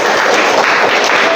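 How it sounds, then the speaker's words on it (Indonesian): Classroom applause from students, a short burst of close, dense, steady clapping with no talk over it. "Tepuk tangan untuk kita semua."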